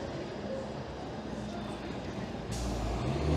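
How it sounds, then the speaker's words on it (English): A 504 King streetcar races past on King Street near Portland in Toronto, a steady rumble of city traffic swelling into a louder, closer roar over the final second. "there's a look over towards the CN Tower as the 504 King streetcar races by"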